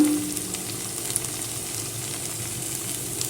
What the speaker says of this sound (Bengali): এবারে আমি ভালো করে এগুলোকে কষিয়ে নেব এবারে আমি এর মধ্যে হলুদ দিয়ে দিচ্ছি